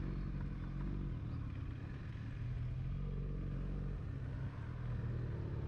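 An adventure motorcycle on a Sunday ride toward a hill temple gives off a constant, low, distant engine drone with wind-like road noise, and no voices.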